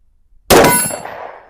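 A Glock 20 Gen 5 10mm pistol firing Blazer 180 grain FMJ rounds, heard as one sharp, loud crack that decays with a short ringing tail. No talking.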